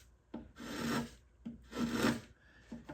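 A hand chisel shaves excess wood off a guitar soundboard in three quiet, close, rasping strokes with short pauses between them, and no one speaking.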